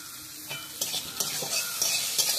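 Onions frying in oil in a kadai and being stirred, a soft, steady sizzle broken by repeated scraping stir strokes, close and fairly quiet.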